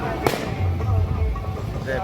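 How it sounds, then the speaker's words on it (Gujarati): Firecrackers burst during a Swaminarayan temple festival procession in Bagasara, one sharp nearby crack followed by fainter pops under continuous crowd chatter and voices. "ફટાકડા ફૂટી રહ્યા."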